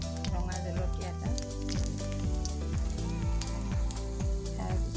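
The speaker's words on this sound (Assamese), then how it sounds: "তেল দি দিলোঁ কেৰাহীত। এতিয়া পাঁচফোৰণ, এতিয়া শুকান জলকীয়া" Panch phoron and a dried red chili crackle and sizzle in hot oil in a wok, a steady loud frying hiss under music-like tonal layers throughout.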